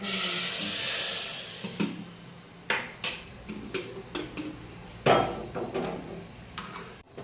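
Dal tempering in a pot: a loud hiss and steamy sizzle at first, then a series of clanks and sharp metallic knocks of utensils against the pot as the hiss fades, no speech.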